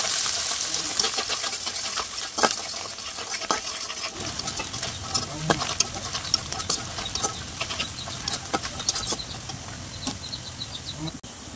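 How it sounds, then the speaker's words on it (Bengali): Half a cup of chopped onion fries in hot oil in a pan, browning to a reddish color, with a steady close sizzle and crackle and occasional stirring scrapes and taps. "আর পেঁয়াজ কুচিটা দিয়ে আমি লালচে কালার করে ভেজে নিচ্ছি"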